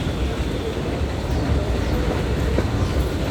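The Disneyland Railroad train rumbles steadily along its rails, a continuous close rolling drone with faint wheel clatter and no talk.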